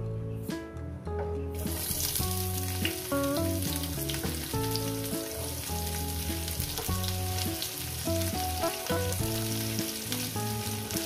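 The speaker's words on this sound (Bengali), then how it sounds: "পেঁয়াজ কুচোগুলো দিয়ে মিনিমাম 2 মিনিট আমি ভেজে নেব" Chopped onions fry in oil in a pan for a rohu fish curry with potatoes, giving a continuous close sizzle with background music playing over it.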